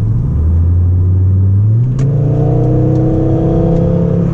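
A 1998 Volvo S70 T5 turbo engine revs from inside the car: a steady low hum, a quick click, then a climbing, layered growl that holds strong to the end.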